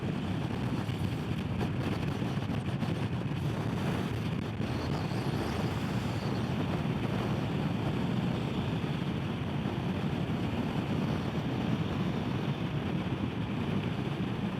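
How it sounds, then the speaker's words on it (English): Strong crosswind buffeting the rider on a 2025 Indian Scout 101 at highway speed, a loud constant roar of wind noise with engine drone underneath and no talk. "We still got that crosswind now to the left of me. So nice high, probably 20 mile an hour crosswind today."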